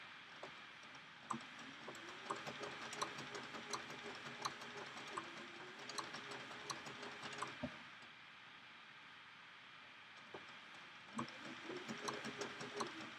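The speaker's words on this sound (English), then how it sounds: "then give it a bar tack for on the next piece, and then start stitching around" A sewing machine stitches a turned-edge applique, producing a faint continuous mechanical whir with fast regular ticking, pausing briefly midway before running again, heard close with no voices.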